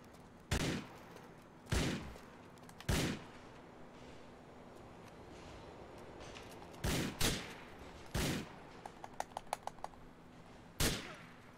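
Gunfire in Grand Theft Auto IV: several sharp single shots and short bursts spread across the stretch, with a quick run of faint ticking clicks between them, over a low steady game background.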